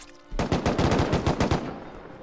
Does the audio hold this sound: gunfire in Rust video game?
yes